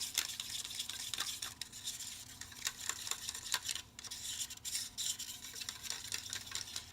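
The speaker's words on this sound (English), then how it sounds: "I am going to mix with a palette knife." A palette knife mixes paint with a continuous close scraping and smearing sound, steady rasping strokes with no talking.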